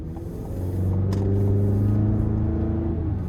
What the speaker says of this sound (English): I love the sound as well. Just from the exhaust, the engine, and then the turbo itself.